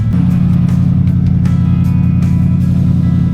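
A rusty, long-neglected Ford Bronco engine idles loudly and steadily right after starting up, a throbbing low rumble with a few sharp ticks over it.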